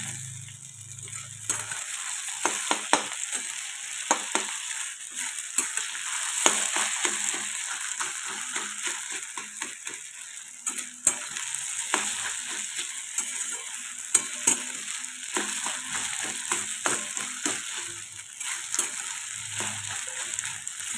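Sabudana khichdi being sautéed in a pan gives a continuous crackling sizzle with frequent small scraping and tapping stir strokes. The sound is close and busy throughout, without speech.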